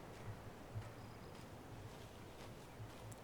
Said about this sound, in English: It's getting really windy here.